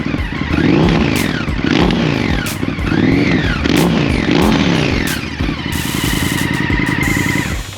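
An Indian FTR motorcycle with an S&S exhaust revs hard from close up, throttle blipped in several rising and falling bursts before settling into a rough, loud idle.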